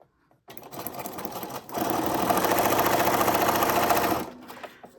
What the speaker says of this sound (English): I just turned on my sewing machine and sewed.